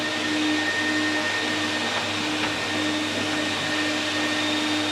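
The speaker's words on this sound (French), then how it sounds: "Il y a l'aspirateur qui marche d'ailleurs." Vacuum cleaner running inside a boat cabin under winter refit, a steady, loud broadband whoosh with a constant motor hum holding unchanged throughout, no voices.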